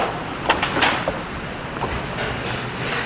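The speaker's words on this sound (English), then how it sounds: "So let that ramp down, and then open up your back doors." Rear doors of an aluminum bumper-pull horse and show animal trailer are swung open, giving a few soft metallic clanks and latch clicks over a steady outdoor background, with no talking.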